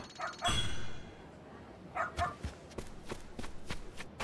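In the samurai-era video game Like a Dragon: Ishin, a dog gives a single loud bark up close, followed by lighter yips and a run of soft footsteps.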